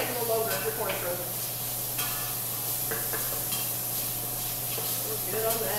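Corn sautéing in herb-infused oil in a pan, a continuous close sizzle and hiss with occasional stirring, under a steady background hum, with some faint voice.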